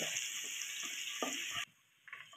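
Bay leaves and garlic sizzle in hot oil as a steady, close frying hiss, broken by a few soft stirring scrapes, before the sound drops away abruptly near the end.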